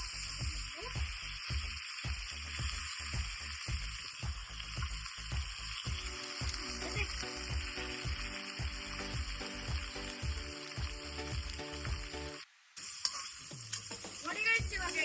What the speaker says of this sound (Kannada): ಇದು ಸ್ವಲ್ಪ ಇವಾಗ ರೋಸ್ಟ್ ಮಾಡ್ಕೋಬೇಕು ಎಣ್ಣೆಗೆ